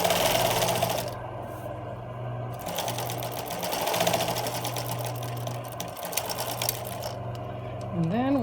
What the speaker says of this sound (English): Stitch to the other end.